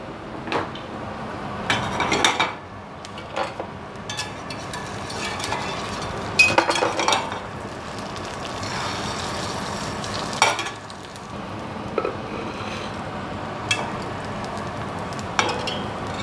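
An egg frying in a Strata fry pan, with a continuous sizzle and repeated scraping and clinking of a utensil against the pan as it is loosened and flipped, with no talking.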